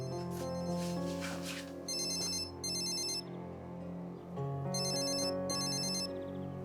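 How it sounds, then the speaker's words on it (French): A telephone ringtone plays in two short bursts of bright repeating electronic tones over a steady musical backdrop, loud and close. "Désolée, il faut que je décroche, c'est important."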